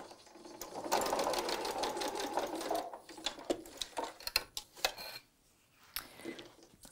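A sewing machine stitching quilting fabric runs in a fast steady whir for a few seconds, then stitches in short bursts and clicks before going quiet.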